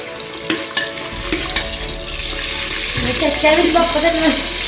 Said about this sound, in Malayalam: ഇവിടെ എണ്ണ നന്നായി ചൂടായിട്ടുണ്ട് നമുക്ക് സ്പൈസസ് ഇടാം